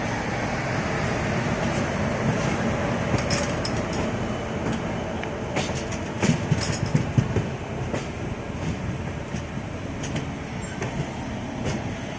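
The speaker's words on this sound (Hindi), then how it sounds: "हम लोग पहुंच रहे हैं जम्मू तवी रेलवे स्टेशन" The 14033 Jammu Mail rolls into Jammu Tawi railway station. Close, continuous rumble and rattle of the carriages fill the whole stretch, with clicking wheels over rail joints and a few louder knocks partway through.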